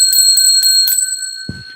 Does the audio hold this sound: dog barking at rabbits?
no